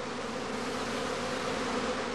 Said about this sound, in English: The prime swarm flies off.